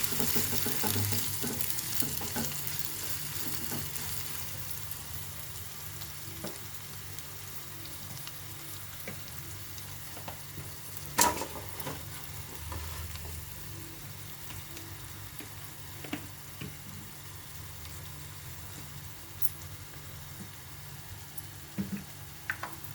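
Sliced onions and green chillies sizzle steadily in a pan, a soft continuous frying hiss with occasional louder pops and faint stirring clatter, without any talk.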